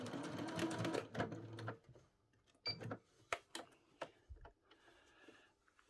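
A sewing machine stitching binding onto garment armholes, running in short bursts of rapid mechanical ticking with quiet gaps and small clicks as the work is repositioned.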